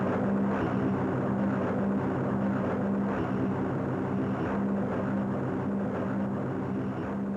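A B-36 bomber, combining piston and jet engines, drones steadily and loudly with a constant propeller hum that holds at the same level throughout, with no voices.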